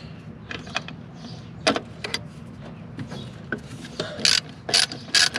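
A ratchet loosening the three throttle linkage bolts on a 1989 Dodge Ram with a 12-valve first-generation Cummins diesel, heard as short bursts of close, rapid clicking separated by pauses.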